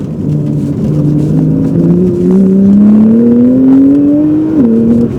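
A Porsche 991.2 Carrera T with upgraded turbos revs up steadily in sport mode, its pitch climbing smoothly for several seconds before a brief drop at a gear change, loud and close.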